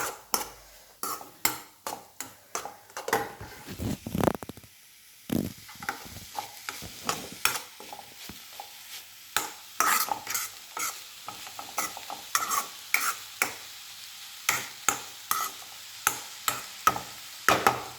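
Beetroot mixed with a ground paste of green chilli is stirred in a pan: a steady series of sharp spoon scrapes and taps against the pan, close and fairly rhythmic, over a light sizzle with no talking.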